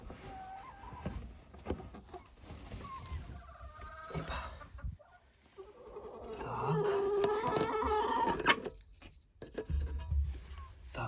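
Lohmann Brown hens cluck steadily around their nests in a farmyard coop during daily feeding and egg collecting, with several louder calls rising over a soft, continuous barnyard murmur.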